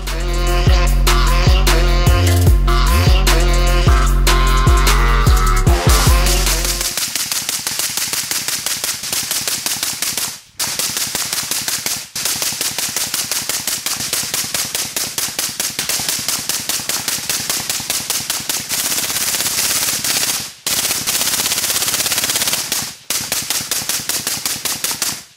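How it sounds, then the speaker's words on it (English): A rifle fitted with a Leupold LCO red dot fires 500 rounds as fast as possible in a burn-down, a loud, close, continuous stream of rapid shots broken by a few brief pauses, after several seconds of other clattering noise. "So 500 rounds as fast as possible, here's the burn down."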